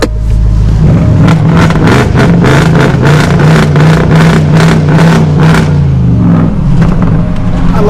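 A 2017 BMW S1000 RR motorcycle engine blips repeatedly at a dealership, giving very loud, close, rapid revs in a quick rhythmic series that ends in a sustained high rev and a falling idle.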